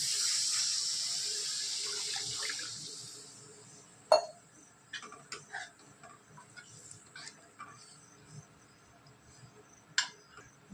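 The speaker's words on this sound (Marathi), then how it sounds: "आता टाकत आहोत आपण पाणी" A steady hiss of water pouring into a pan of brinjal curry for about three seconds, then quiet with scattered light clicks and taps.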